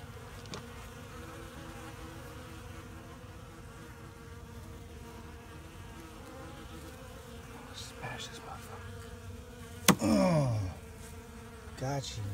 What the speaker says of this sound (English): Seems like it's only beating up my bees.